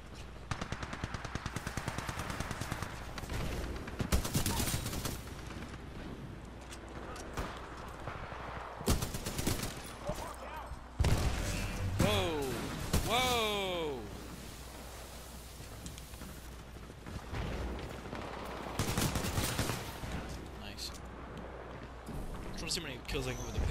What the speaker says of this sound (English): it's hard to shoot people when you are being shot at